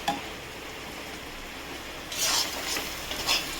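Meat with spices sizzles in a pan during mutton cooking, a steady soft frying hiss broken by a few scraping stirs and light clinks of a utensil against the pan.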